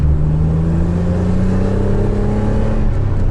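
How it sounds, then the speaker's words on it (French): Naturally aspirated V6 in a Renault Clio V6, a mid-engined car, droning steadily and loudly from close by as it is held around 4500 rpm through gear changes, with no talking. "Là, je passe les vitesses à 4500 tours minute. C'est un V6 Atmo qui monte à 7000."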